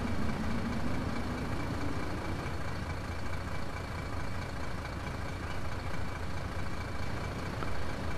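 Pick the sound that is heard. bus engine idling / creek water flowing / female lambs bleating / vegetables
bus engine idling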